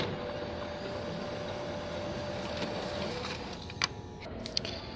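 A printer runs a test page at an IT support desk for a conference, giving a steady mechanical whir with a few sharp clicks near the end.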